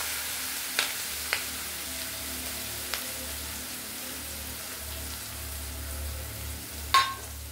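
Onion pieces and green chillies sizzle steadily in a pan for a tomato curry with raw mango and drumstick, a soft continuous frying hiss with a few sharp clicks of utensils against the pan.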